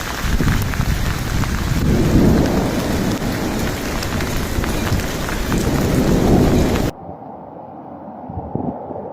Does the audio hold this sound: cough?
no